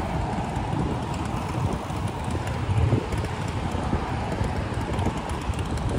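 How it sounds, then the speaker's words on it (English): Steady wind gusting across the microphone at Galveston beach in Texas, a continuous broadband rush with brief swells, with no talking. "Still hot, but it's a little windy"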